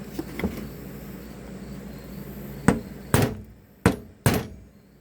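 A hammer drives an aluminum Welch plug into a 1974 Evinrude/Johnson outboard carburetor resting on a flat surface. Four sharp, close taps land at uneven intervals after a low background hum with faint early knocks.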